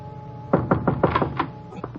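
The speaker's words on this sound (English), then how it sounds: "when I knocked at his door" Knocking on a door in a radio drama: a quick series of about six firm, close raps on wood, with a faint sound after them and no talking.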